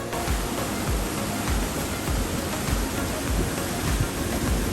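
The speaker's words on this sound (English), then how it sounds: "ending on a bridge over rushing water in a rock-filled river" Rushing river water tumbling over rocks beneath a bridge at Arthur's Pass, New Zealand, a loud, continuous broadband roar with no breaks.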